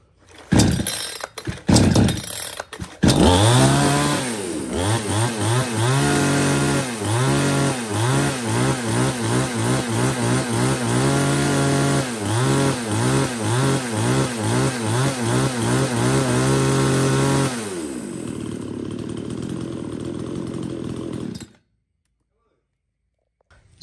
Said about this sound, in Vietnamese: đây là từ con O2 cho tới con O6 là máy cưa nhật bãi đây